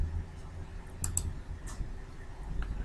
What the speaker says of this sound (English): We will click there.